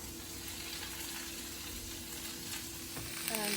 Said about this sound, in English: Okay, it's going in the pan.